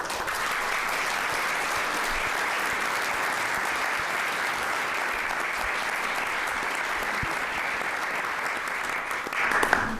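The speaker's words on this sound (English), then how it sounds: "I really want to give her especially a round of applause" Audience at a Salem, Massachusetts city council special meeting applauds for President Meservey. The sustained, even applause fills the room steadily for ten seconds, with a few louder claps near the end.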